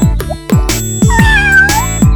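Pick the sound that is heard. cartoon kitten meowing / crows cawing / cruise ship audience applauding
cartoon kitten meowing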